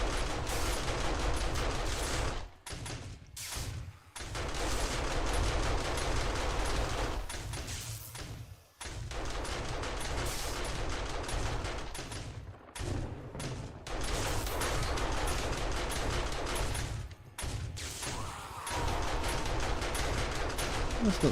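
SMG turrets in 7 Days to Die fire in long, continuous automatic bursts, a steady rapid rattle broken by a few brief pauses, with occasional speech.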